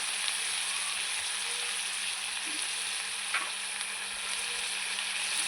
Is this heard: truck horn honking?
no